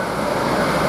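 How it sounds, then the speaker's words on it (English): A Lumo train passes through Peterborough railway station, a loud steady broadband rumble and rush of wheels and passing carriages filling the whole moment close by. "we've got another train coming through here"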